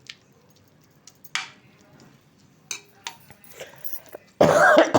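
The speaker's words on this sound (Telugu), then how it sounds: "నాకు దగ్గు పట్టుకుంది చాలా." A person coughs hard and clears their throat in a home kitchen while bottle gourd kheer cooks, a loud, close burst near the end after scattered soft clinks and stirring sounds.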